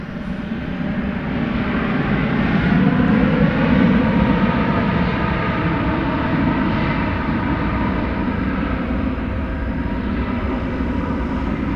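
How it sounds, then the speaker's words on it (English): A jet airliner at night at DFW Airport powers up for takeoff on a long-haul flight to New Zealand, a loud sustained engine roar that swells, then holds steady, heard from a distance with no talking. "its red marker lights at us as it heads up for takeoff on its long journey"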